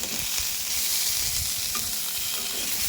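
Pointed gourd (potol), split lengthwise, fries in a pan with little oil left, giving a steady close sizzle with faint stirring scrapes throughout and no voices.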